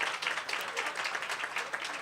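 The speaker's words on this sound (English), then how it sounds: "stand up. We'll give you some applause." Dense, steady applause from an audience at a park and public lands advocacy day, many hands clapping together for first-time attendees, with no talking over it.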